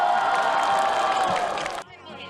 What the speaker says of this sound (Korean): 밴드 공연에 발걸음을 멈춘 학생들이 환호성을 지릅니다.